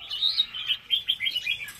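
Young red-whiskered bulbul chicks at a bird farm give a busy stream of thin, high chirps, overlapping and fairly close, with no voices.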